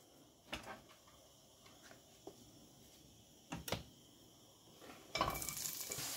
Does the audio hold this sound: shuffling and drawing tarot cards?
no